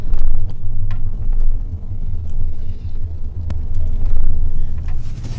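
Heavy, steady exhaust rumble from a Ford F-150 with a V6 EcoBoost engine and a Magnaflow resonator delete, loud and close, with deep low throbbing and a few light clicks and no talking.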